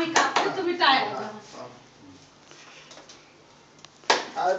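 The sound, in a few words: people clapping at a birthday cake cutting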